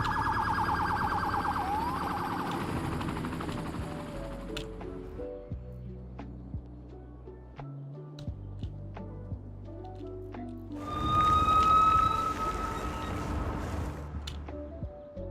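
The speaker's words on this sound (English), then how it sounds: "Here we go. There's a different siren." Emergency vehicle siren in traffic, a wailing electronic tone that fades in and out through road noise and grows loud and close near the end, with a clear rising sweep, no talking.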